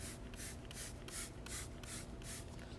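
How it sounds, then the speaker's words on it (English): Interior cleaner is sprayed onto a car's lower interior surface in a quick run of about seven short, evenly spaced hissing pumps, close but fairly quiet, with no talking. "So I'm going to spray this whole entire lower area."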